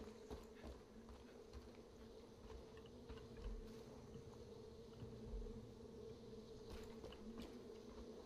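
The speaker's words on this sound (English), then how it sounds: "I hear bees." Bees buzz in a Far Cry 5 outdoor scene, a faint, continuous low drone with soft game ambience and occasional small clicks around it.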